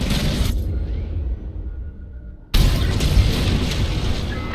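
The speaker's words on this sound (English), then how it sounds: "On my mark. It's bombs away." A bomb explosion in Star Wars: Squadrons bursts as a loud, deep boom, then drops to a brief muffled lull with a faint tone before a second heavy roaring blast fills the space.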